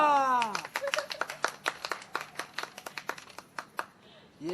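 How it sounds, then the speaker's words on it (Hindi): Sparse, irregular handclaps from a small group at an outdoor TV serial shoot during a pot-breaking competition, following a brief vocal tone at the start, with light speech underneath. "तालियां"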